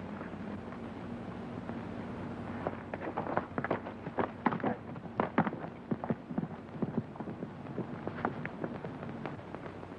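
Hooves clatter in an irregular, quickening rhythm as horses ride off, moderately close, over a low steady rumble, in a 1937 western film.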